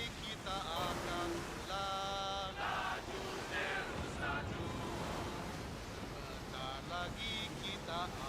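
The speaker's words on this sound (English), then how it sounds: "They're breaking those waves." Ocean waves break against a sailing ship's hull in the pirate game Skull and Bones, a steady loud wash of surf and wind with musical tones and effects layered over it.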